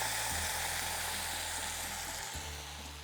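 Chicken broth poured into a pan of sizzling chiles while cooking a Mexican peanut chicken sauce: loud, steady frying hiss throughout, close and continuous with no talking.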